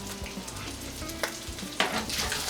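Chopped green onion whites frying in a hot pan for Chinese takeout-style pepper steak, a steady close sizzle with occasional louder spatters and stirring clatter, no talk.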